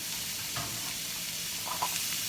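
Chopped onion and vegetables hitting a hot roux for crawfish etouffee, a steady close bright sizzle with faint stirring scrapes throughout and no voices.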